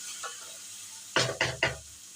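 Spice paste fries in oil that has separated in a pan, with a faint sizzle and three sharp, close stirring scrapes in quick succession after a quiet start. No voices.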